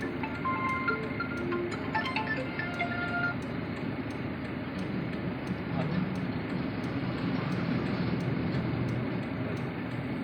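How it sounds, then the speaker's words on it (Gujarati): A train rumbles steadily at a moderate distance, its continuous low roar broken by a few faint tonal squeals and beeps, with voices murmuring faintly. "મુકેશ એવી ટ્રેન છે"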